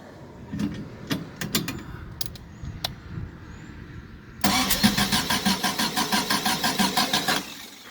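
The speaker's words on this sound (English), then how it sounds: "I wonder if we can get this thing to fire up" A homemade redneck buggy engine is cranked after scattered mechanical clicks and clunks, then catches and runs with a loud, rapid, pulsing chug close by, finally cutting off near the end.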